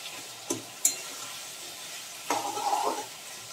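Spices fry in a hot pan with a soft sizzle, broken by two sharp clinks of a utensil early on and a louder stretch of stirring and scraping near the end.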